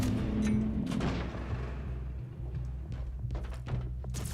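Laser rifle fire in the Warhammer 40k Inquisitor Martyr video game, a run of quick, sharp shots over a low droning game backdrop, fairly close and steady, with no one talking.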